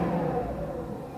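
A Mercedes S500 W140 engine revs under the throttle, a steady mid-pitched roar with no speech over it.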